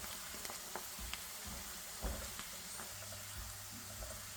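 Sliced onions frying in oil for shrimp head coconut sambal, turning golden brown while being stirred constantly, with a faint, steady sizzle and soft stirring clicks and scrapes.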